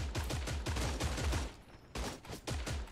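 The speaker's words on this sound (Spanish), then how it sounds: "Y le dispara a alguien de allí." Bursts of gunshots in the shooter game Creative Destruction, fired in quick rhythmic volleys that pause for a moment before a few more rounds follow, loud and close.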